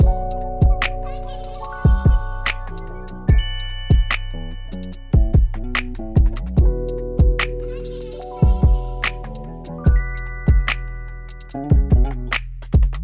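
A looped hip hop beat repeats steadily, with punchy kicks and sustained sampled tones cycling every couple of bars, no voices.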